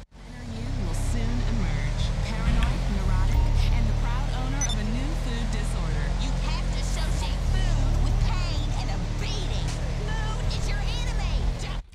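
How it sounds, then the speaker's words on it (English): A Declasse Granger 3600LX SUV in GTA Online revs and drones with a low, steady engine rumble that persists loudly for the whole stretch, while a voice talks over it. "let us listen to the sound of the engine and see if we have anything special"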